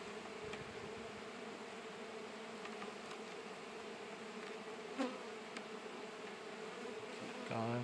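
Honeybees buzz around an open beehive that is washboarding, a dense, continuous hum of many bees close by with occasional louder passes near the microphone and no talking.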